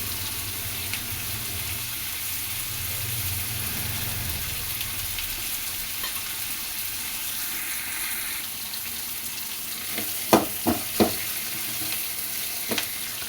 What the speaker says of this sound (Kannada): ಈ ಥರ ಮಸಾಲೆ ಎಲ್ಲ ಹುರ್ಕೊತಾ ಇದ್ದೀನಿ ಮಸಾಲೆಗೆ ಅಂತ ಈರುಳ್ಳಿ ಮತ್ತು ಕೊಬ್ಬರಿ ಟೊಮೆಟೊ ಇದನ್ನೆಲ್ಲ ಒಂದು ಸ್ವಲ್ಪ ಎಣ್ಣೆಯಲ್ಲಿ ಬಾಡಿಸ್ಬಿಟ್ಟು